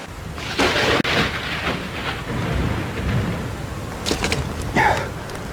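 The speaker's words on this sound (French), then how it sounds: "pourquoi il pleut chez moi?" Rain pours steadily during a thunderstorm, a dense continuous wash with a few louder gusts and crackles of thunder rising over the hiss.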